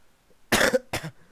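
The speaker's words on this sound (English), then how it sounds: "I keep coughing directly into the mic." Two harsh coughs close to the microphone, a long burst then a shorter one, loud against near silence during a Minecraft-style maze game session.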